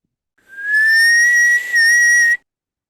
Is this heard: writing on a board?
no